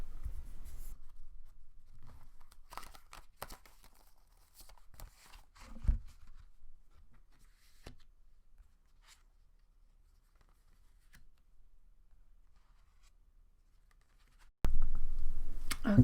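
Tarot cards being shuffled and laid out on a surface: soft papery slaps, flicks and brushes in irregular bursts, close and quiet, ending with a sudden louder rustle.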